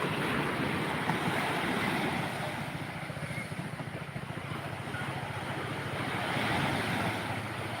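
Large ocean waves off Barangay Calayo roll and crash in a steady, broad surf roar, joined by gusty wind buffeting the microphone throughout, with no speech over it.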